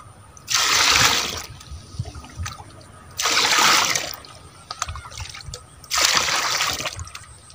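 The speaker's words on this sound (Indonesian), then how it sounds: "langsung saja dikocorkan pada tanaman cabainya ya" Liquid fertilizer solution poured onto chili plants in three separate bursts, each a gushing, splashing pour lasting about a second, close by, with quiet gaps between.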